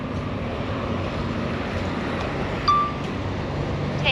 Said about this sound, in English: It's a tiny bit windy